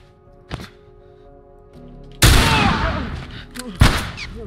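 Rifle gunfire in The Last of Us, opening with a lone sharp crack, then a loud burst of shots and rattling reports after a quiet stretch, with further cracks trailing off.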